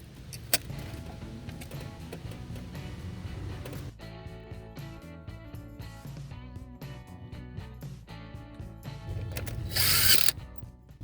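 A hand ratchet clicks in quick bursts while snugging the valve cover bolts on a Nissan Altima engine, with short pauses between runs of sharp, close pawl clicks and a louder flurry near the end.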